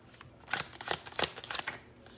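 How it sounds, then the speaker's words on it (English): Brief riffling of a tarot deck, several quick papery bursts in a row, close and fairly soft, with no voices. "As soon as I heard the shuffling of the cards, I got slightly dizzy."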